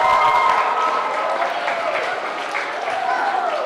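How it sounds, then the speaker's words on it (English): An audience applauds a women's forum panel at a school with sustained, dense clapping throughout, loud and even, with a few cheers and crowd voices blended in. "how about one more round of applause for this collection of talents, expertise, leadership"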